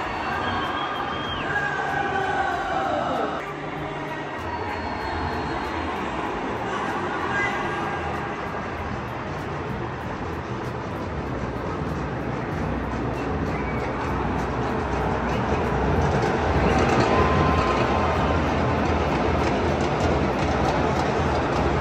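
Crowd noise in Brazil's Maracanã stadium, built in 1950 for the World Cup, a steady dense wash of many distant voices swelling slightly toward the end.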